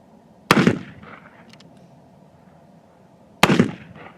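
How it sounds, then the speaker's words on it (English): Two loud, sharp revolver shots from an Uberti Richards Mason fired at clay targets outdoors, about three seconds apart, each followed by a brief echoing decay. "we'll go ahead and we'll shoot some more rounds here"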